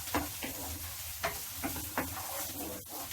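Mixed vegetables sizzle in a frying pan while a utensil stirs them, with several distinct scraping strokes over a steady frying hiss, close and at moderate level.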